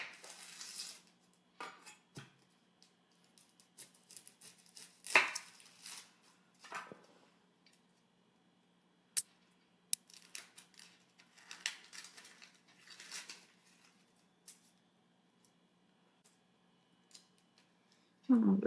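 Knife chopping onion into chunks for a Halloween chili, a scatter of irregular crisp cuts on a board at close range, quiet gaps between bursts.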